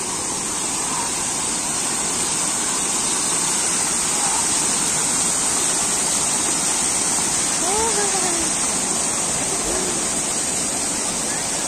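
Jacuzzi water at the Radisson Blu hotel in Doha churns in a loud, steady roar of bubbling and rushing water, with brief faint voices underneath.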